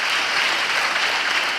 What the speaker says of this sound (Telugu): చప్పట్లు కొడుతూ దేవునికి స్తోత్రాలు చెప్పు.